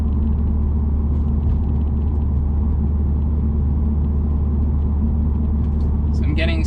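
Steady low road rumble inside a 2017 Subaru WRX Limited cruising at 30 mph, a constant engine and tyre drone filling the cabin with no talking, and a brief faint rattle near the end.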